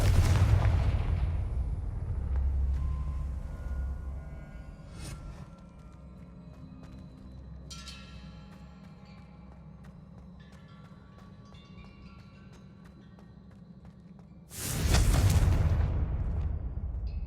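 A Confringo explosive spell from the Hogwarts Legacy video game goes off as a sudden loud, broad blast late in the clip, following a long stretch of low rumbling ambience with scattered fainter impacts.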